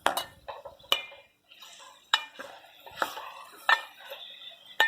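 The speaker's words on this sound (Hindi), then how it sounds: "अब मैं सारे पिसे मसाले में एक साथ इसमें ऐड कर दूँगी" Ground spices going into a frying pan and being stirred for aloo keema, heard as sharp metal clinks and scrapes of a spoon against the pan at irregular intervals, fairly close and quiet, with no talk.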